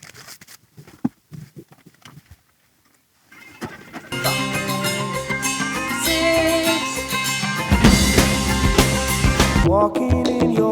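A brief quiet stretch of scattered faint sounds gives way to a full band excerpt from a 1983 album, dense and loud with layered instruments building steadily to the end.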